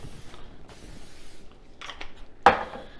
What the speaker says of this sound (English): Hit them with a little bit of cooking spray.